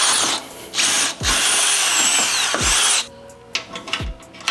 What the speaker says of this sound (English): we're gonna drill this hole out to a 3/8.